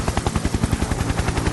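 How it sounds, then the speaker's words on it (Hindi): A switched-on toy helicopter runs with a loud, close, rapid rotor chop, a steady fast pulsing buzz throughout with no voices over it. "तो ये हमारा हेलीकॉप्टर चालू हो गया।"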